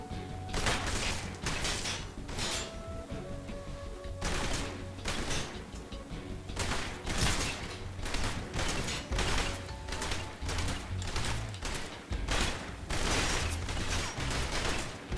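Repeated bursts of gunfire crackle in quick volleys, with mechanical clanks and impacts between them, a jungle firefight in the video game Metal Gear Solid Delta.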